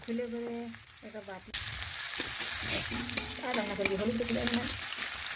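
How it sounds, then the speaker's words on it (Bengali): Chopped onions fry in a pan, starting with a loud, steady sizzle and a few scraping stirs. Someone speaks over the cooking sounds. "আর পেঁয়াজটা একটু আমি লাল লাল করে ভেজে নেব।"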